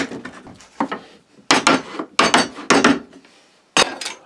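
Cut wooden blocks and a narrow piece are set into a wooden wagon vise on a workbench, producing several sharp knocks and scraping clacks of wood on wood at irregular intervals, close and clear.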